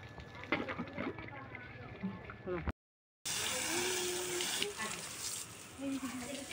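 Water poured into a pan of small freshwater fish cooking in a village kitchen, starting with a steady gushing hiss after a brief silence, while voices talk over the cooking sounds.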